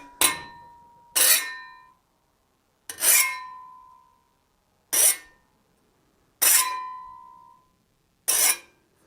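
A hand file strikes a hard template, six separate rasping strokes, each bursting bright then ringing off with a clear sustained metallic tone, with short pauses between them and no voices.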